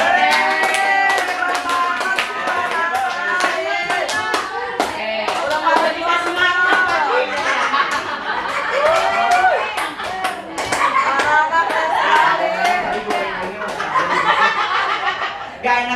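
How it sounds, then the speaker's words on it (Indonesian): An audience claps during a classroom session while laughter and chuckles run through the crowd, with voices talking and reacting over the steady applause. "Tepuk tangan dong sama"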